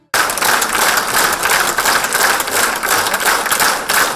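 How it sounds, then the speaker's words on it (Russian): An audience at an orchestra concert in Naryan-Mar breaks into stormy applause, a dense, loud, steady wash of clapping that continues without pause. "Его игру и весь концерт публика оценила бурными аплодисментами"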